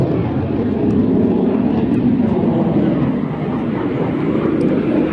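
An aircraft at an air show flies past, its engine a steady broadband roar close by and fairly loud throughout.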